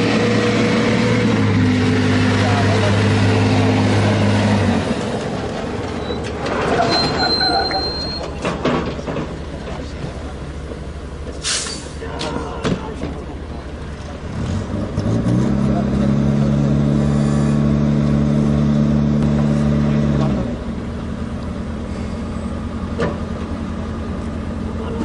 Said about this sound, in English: You will now see the Bofors gun towed by a tow truck called the Scania.